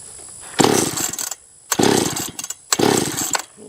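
A Stihl or Husqvarna chainsaw runs at half throttle in three loud, close bursts of buzzing engine roar, each lasting about a second, with short quiet gaps between them.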